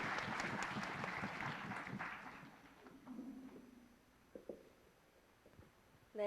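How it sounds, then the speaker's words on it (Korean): An audience at a Korea University Tiger's Day student event breaks into brisk applause, dense clapping for a few seconds that thins and fades into scattered claps and quiet room noise. "박수 쳐주세요"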